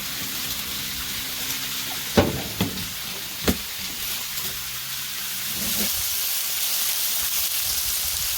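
Meat sizzling in a pan under a smash burger press, a steady crackling hiss with a few sharp clacks of the press and utensil partway through.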